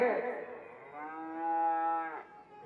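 A cow moos in one long, drawn-out low, with a rough opening that settles into a steady tone before it breaks off, fairly close and loud.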